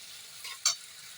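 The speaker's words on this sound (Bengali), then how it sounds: "এটা আমি এবার আলুগুলো ভাজা হবে, ভাজা হয়ে যাক" Potatoes with turmeric fry in a pan with a quiet, close sizzle and one brief stir, short and without talk.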